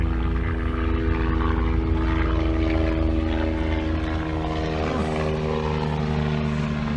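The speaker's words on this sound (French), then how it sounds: "Non mais ces hélicos ils délirent ici." A loud, continuous rotor and engine drone from a helicopter flying overhead fills the whole stretch, with steady low throbbing and no voices.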